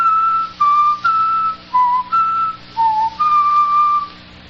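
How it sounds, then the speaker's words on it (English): A person whistles the notes of a musical theme, about eight clear sustained tones at shifting pitches, each separated by a short pause, loud and close. "Let me see if I can whistle those notes written in the musical theme."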